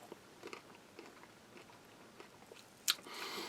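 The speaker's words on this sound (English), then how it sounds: "Crispy, crunchy. They look like pumpkin seeds." Crunchy roasted, salted chili-spiced seeds from a US Army halal MRE ration being chewed, soft close crunches and bites, with a louder crunchy burst near the end.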